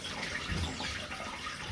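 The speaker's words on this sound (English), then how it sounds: "I usually do one tin at a time, like rinse it off, make sure it is rinsed off." Tap water runs steadily over a tin of beans being rinsed, a continuous close splashing wash with no voices.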